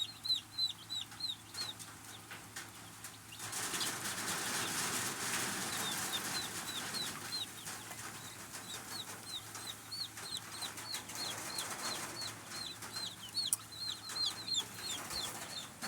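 Newly arrived dual-purpose chicks, shipped by mail, peep in a steady stream of short high chirps, with a louder rustling burst in the middle; no talking.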